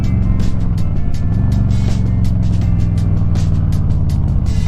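A 2022 Harley-Davidson Low Rider S motorcycle is being ridden. Its engine gives a loud, close, continuous low rumble with a steady throb throughout.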